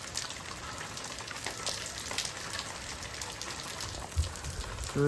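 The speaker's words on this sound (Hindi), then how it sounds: "बहुत ज़्यादा भयंकर बारिश, बहुत ज़्यादा।" Heavy rain falling in a hillside village, a steady broadband hiss and patter that goes on without a break, with a brief low thump near the end.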